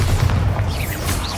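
A Bombarda blasting spell explodes in the Hogwarts Legacy video game, a loud, close, deep boom with a rumbling low tail and no talk over it.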